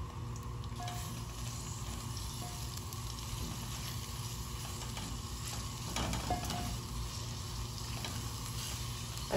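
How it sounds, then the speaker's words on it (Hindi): Onions frying in a pot as the base for a potato meat curry, a steady close sizzle with occasional stirring scrapes throughout. "इसमें हम सबसे पहले डालेंगे प्याज को हम थोड़ा सा नरम करेंगे।"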